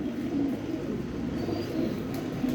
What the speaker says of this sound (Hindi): ये देखें आप कबूतर